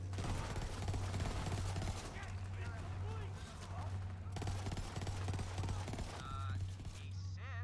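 Grenade blasts and gunfire crackle in Borderlands 3 combat, with dense bursts of shots over a steady droning game background while a player talks throughout.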